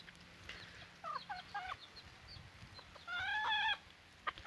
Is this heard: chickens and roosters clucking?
yes